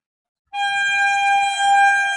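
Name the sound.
train passing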